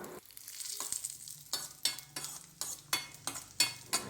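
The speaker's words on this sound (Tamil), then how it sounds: "பாதாம் முந்திரியை நெய்யில் வதக்கி சேர்த்துக்கலாம்" Almonds and cashews fry in ghee for a porridge topping, a soft hiss underlying a series of crisp stirring scrapes that come roughly every half second, close and fairly quiet, with no talking.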